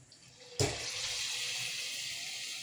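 Balls of cooked lentil dough (sukhiyan) dropped into hot oil: a sudden loud hiss at the start of frying, then a steady sizzling bubble that carries on.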